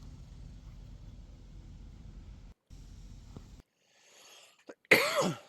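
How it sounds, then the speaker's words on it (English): One sharp, close cough bursts out suddenly at the end, after a stretch of low background hum broken by short silences. "Sorry, I'm coughing, guys."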